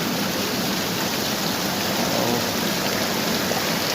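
Steady, dense rainfall hissing evenly throughout, a constant broadband wash with no voices or other distinct sounds.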